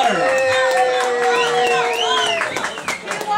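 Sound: crowd applauding and cheering

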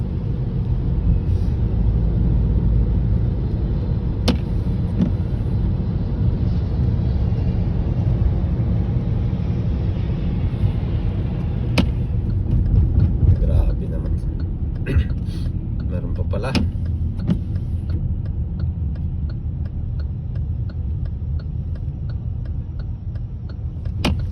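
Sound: road traffic on flooded street in Dubai rain

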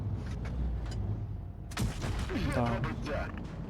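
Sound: tank cannon shots in World of Tanks Blitz video game

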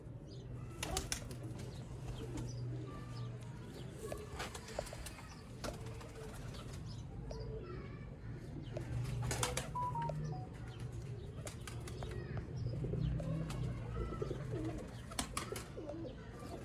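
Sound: pigeons cooing

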